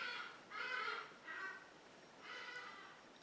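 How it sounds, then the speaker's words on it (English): Four harsh, cawing bird calls come in uneven bursts, moderately close, with quiet background between them. "Apologies for the birds."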